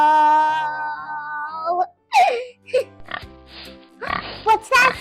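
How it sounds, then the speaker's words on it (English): A pig on a farm gives a series of short, close, nasal oinks and snorts in irregular bursts, after a sustained sung tone at the start. "It sounds like a pig. Did you know that pig says oink oink?"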